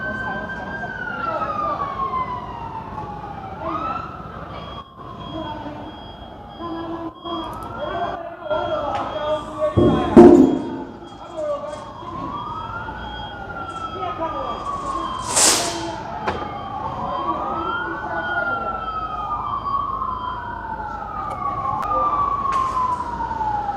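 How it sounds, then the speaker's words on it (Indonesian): An ambulance siren wails as it arrives, with repeated rising-and-falling sweeps at mid distance over a rumbling traffic background and faint voices. "Itu langsung datang tuh ambulan nih tuh."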